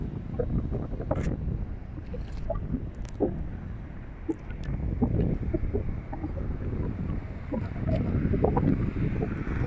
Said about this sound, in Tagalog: Narinig nyo lakas ng hangin.